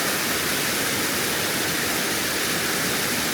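Water pours over Fairy Falls after Hurricane Helene flooding, a steady, loud, broadband roar that holds unchanged throughout with no voices.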